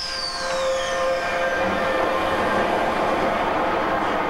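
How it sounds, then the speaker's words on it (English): A driverless Docklands Light Railway train in London rolls past with a steady loud rumble and a falling whine, and no voices are heard. "It now has its own driverless light railway with connections to the London Underground"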